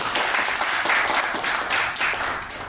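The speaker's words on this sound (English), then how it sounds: "So the applause is yours." Conference audience applauding to welcome a keynote speaker, a dense, steady burst of clapping in a hall that holds evenly and tapers slightly at the end.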